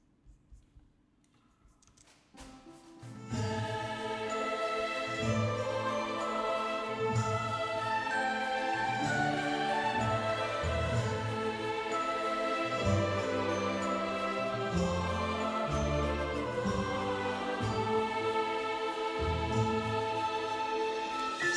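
An orchestral passage swells in after a quiet start, with violins carrying the melody over pizzicato cellos and double basses, full and steady throughout.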